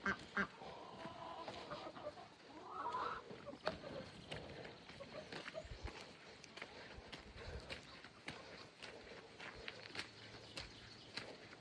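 Ducks quack faintly in the distance amid outdoor background noise and scattered knocks and clatter, with no talking nearby.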